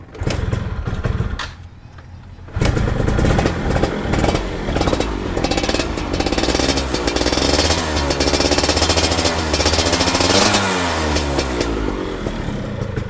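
Motorcycle engine kick-started after the battery proves too weak, then running with a loud, steady rattling idle that continues for about ten seconds after a brief lull near the start.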